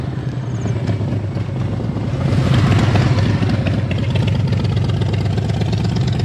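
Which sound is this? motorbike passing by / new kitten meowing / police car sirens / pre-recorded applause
motorbike passing by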